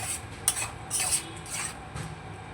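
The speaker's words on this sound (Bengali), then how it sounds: "দিয়ে আবারও ভালো করে নেড়ে নিচ্ছি" A spoon stirs a thick spice paste loosened with a little water in a pan, producing rhythmic scraping strokes against the metal over a soft sizzle, close and moderately loud.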